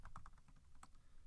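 Computer keyboard typing in a short burst of distinct clicking keystrokes, fairly close and clear, with a brief pause before a final key press over faint room background.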